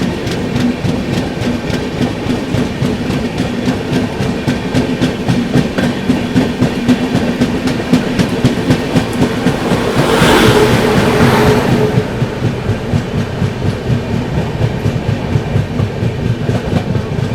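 An AC Duronto Express from Nizamuddin to Pune runs at high speed, with a steady, loud rumble and rapid clickety-clack of wheels over rail joints throughout, swelling briefly near the middle as something passes.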